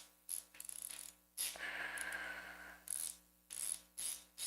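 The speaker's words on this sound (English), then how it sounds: "And I torque these to 106 pound-inches." A torque wrench tightens bolts on a five-cylinder engine swap into a Ford Fairmont station wagon, giving several short separate bursts of ratcheting clicks at close range in a quiet garage.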